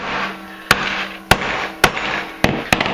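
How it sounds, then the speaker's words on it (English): Sharp metallic hammer strikes on a ferrocerium rod to loosen its epoxy, five loud close impacts at irregular intervals over a steady low hum, each with a brief ringing tail. "you can probably just hit it with a hammer and it'll pop right out"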